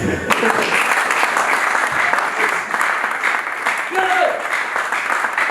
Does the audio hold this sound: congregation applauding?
yes